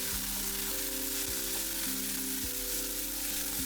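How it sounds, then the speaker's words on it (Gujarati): Onion greens and onions fry in a pan with a dense, constant sizzle, while a steady mechanical hum with shifting tones runs underneath throughout. "ડુંગળીના પાંદ, હલાવી લેશું."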